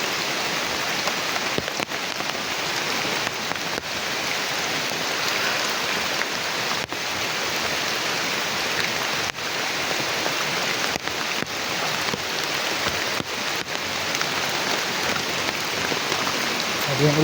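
Steady rain pours down outdoors with no shelter nearby, a dense continuous hiss of drops striking surfaces, fairly close and unbroken throughout.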